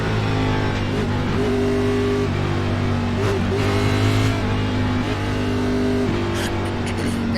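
A carburetor-cup stock car races at Daytona in iRacing, its engine droning loud and steady in a low-pitched hum with slight rises and dips in revs throughout, close and continuous.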